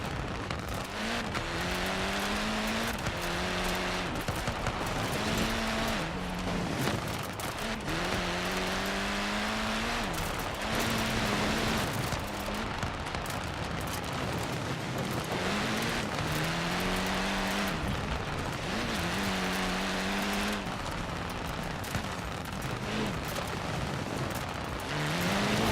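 A Honda Civic Type R engine in a racing game whines and revs through repeated gear shifts, loud and close, with rising pitch sweeps broken by brief shift drops across the run.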